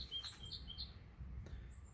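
Birds chirp and tweet in a rainy Florida orchid garden. A few short, high chirps sound faint and a little distant over a low, steady rumble.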